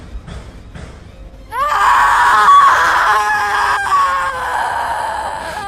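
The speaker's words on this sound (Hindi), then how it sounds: "छलावा ने चीख मारी" A sudden, loud, wavering shriek of a chhalawa spirit bursts out after a quiet start and sustains for several seconds, a harsh horror-story scream effect that slowly fades.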